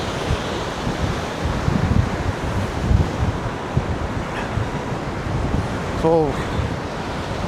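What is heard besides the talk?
strong wind and rough sea at a pier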